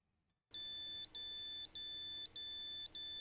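Proximity alarm on a Silicon Labs example device, sounding when measured distance drops below 250mm: a loud, steady high-pitched electronic tone broken by five or six short gaps at a regular pace, heard alone.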